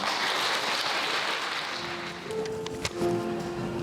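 Wedding guests at a ceremony in a hall applaud the couple with a soft, even wash of clapping, followed by a brief clink and some faint tonal sounds as the clapping continues.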